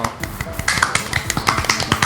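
Several sharp hand claps ring out in quick, uneven succession, close and crisp, forming a short burst of percussive slaps.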